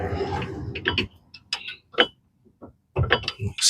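A spanner ratchets and clicks while undoing brake bolts on a Ford Fiesta MK7, with sharp close metallic ticks in short bursts separated by brief silences.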